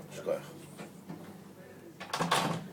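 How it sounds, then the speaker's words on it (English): A door bumps shut in a room during a spoken lesson, one short clunk near the end following talk. "Would you mind closing the door here?"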